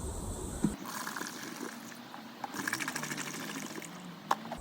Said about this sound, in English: fill these up with water, give them a shake, then pour them in